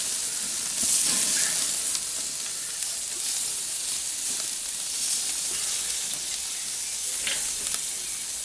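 Harissa-marinated chicken pieces sizzle on an outdoor barbecue grill, a continuous close crackling hiss with occasional louder spits and a few faint clinks.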